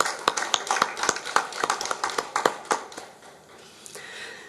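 A church congregation marking its 42nd founding anniversary claps together, sharp separate hand claps at first that thicken into scattered applause, then fade to a quieter tail.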